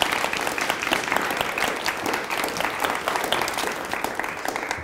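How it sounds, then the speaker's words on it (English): A lecture audience claps to welcome a speaker, dense, steady applause filling the hall for several seconds with a few voices underneath. "please join me in giving a big round of applause for Mr. Simon Ortiz."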